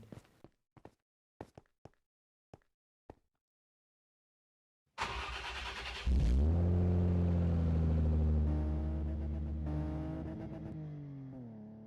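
A modded BMW E30 in Minecraft Bedrock Edition: several sharp footstep-like clicks, then a pause, then the engine starts with a burst and revs, holding a steady drone that gradually fades.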